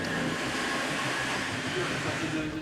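A Paris metro train rumbles and hisses steadily in the early morning, a loud continuous roar of the carriages in motion.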